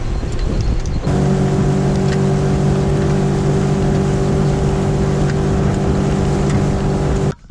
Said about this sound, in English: Before you start the engine, make sure it's in the water.